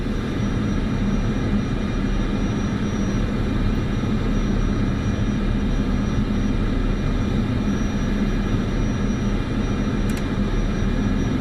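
Airliner taxiing in Microsoft Flight Simulator 2024, a steady loud whine and rumble of jet engines held constant throughout with no talk.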